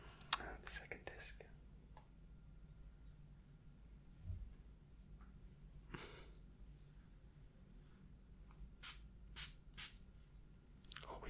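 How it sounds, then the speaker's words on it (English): A spray bottle gives a few short, quiet bursts of mist close to the mic in a hushed sleep-clinic roleplay setting, with soft whispery background sounds between sprays. "Always 3 sprays."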